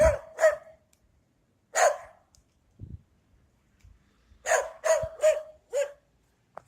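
Dogs barking outdoors during a Central Illinois blizzard, a few sharp barks in quick bursts separated by pauses, fairly close and alone with no talk.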